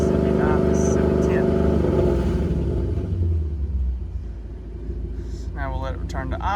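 Car engine fitted with a VMP G3R supercharger rumbles loudly near the start, then drops back toward a lower, steadier idle as someone speaks over it.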